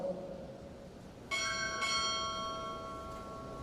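Two quick strokes on a ship's bell ring out during a Navy chief petty officer pinning ceremony, bright and resonant, the second landing just after the first and both decaying together in a quiet hall.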